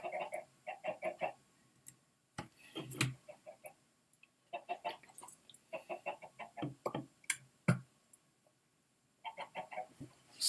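Minecraft chickens on an automatic chicken farm give repeated clipped clucks in quick clusters, with brief pops and ticks between the bursts and short gaps of near silence.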